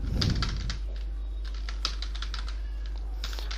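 Steady clicking of typing on a computer keyboard while data is entered into an Excel VBA billing sheet, a run of close, quick keystrokes at an even pace with no talking.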